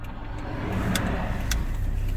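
A car engine drones steadily on a climb up Avon Mountain's road, a close, low rumble with road noise and a couple of brief bright ticks, no voices.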